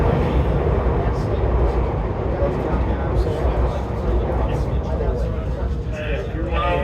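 A northbound Chicago 'L' train, a 2400 Series car on the Kimball–Forest Park snowflake special, passes with a continuous loud rumble and roar, along with faint higher squeals near the end.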